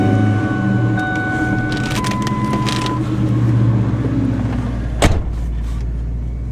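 A truck engine cranks and settles into a steady idle close by, with whirring and tonal mechanical whines early on and a sharp clunk near the end.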